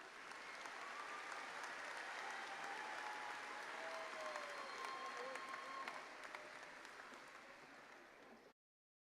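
An audience applauds graduates at a 2018 MBA graduation ceremony, with dense, sustained clapping from a large hall heard faintly and at a distance, cut off abruptly at the end.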